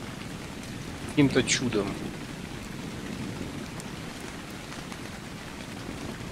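Rain falls in the video game ARK: Survival Evolved, a steady, soft hiss throughout, with someone speaking briefly over it early on.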